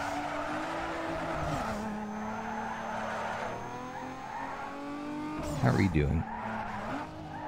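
A car spins out and skids in Need for Speed Underground 2, the engine droning and shifting pitch with a loud tire screech near the end, under a brief spoken line.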